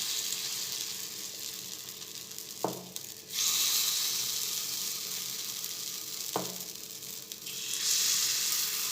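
Spoonfuls of green pea batter sizzle steadily in an oiled appam pan, a continuous close frying hiss with two brief clicks as more batter goes in.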